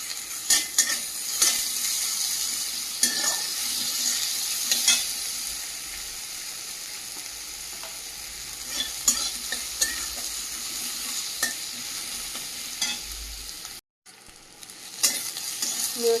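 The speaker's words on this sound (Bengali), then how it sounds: "পেঁয়াজটা ভাজা ভাজা হয়ে গেছে" Chopped onions with ginger paste sizzle steadily in a hot pan while a utensil scrapes and stirs in irregular bursts, close by.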